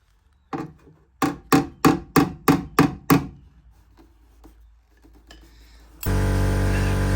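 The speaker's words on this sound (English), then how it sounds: "as you can hear, we've got the compressor going" Several sharp hammer taps ring out on a car body panel in a workshop, then an air compressor abruptly starts and runs loudly with a steady mechanical drone through the final second.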